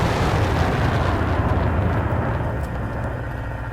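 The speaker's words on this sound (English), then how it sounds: "Boom, helicopter shot down." A loud, rumbling explosion-like roar with a deep engine drone as a helicopter is shot down in the video game War Thunder, filling the whole span and slowly easing off toward the end.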